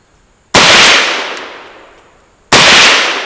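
Two loud gunshots from an Auto Ordnance M1 Carbine rifle, about two seconds apart, each a sharp close blast that rings out and decays slowly, with no talking.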